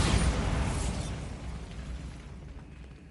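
A Bombarda blasting spell in a Harry Potter video game, a loud booming burst at the start that rumbles and fades into a dull, settling tail.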